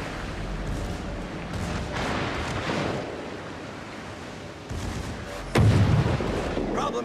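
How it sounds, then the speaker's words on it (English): Heavy battleship gun salvos roar in World of Warships: Legends, deep rumbling booms rolling over a wash of ocean-like noise, with a sharp loud blast near the end; a voice is heard in the background. "Fire on the designated target."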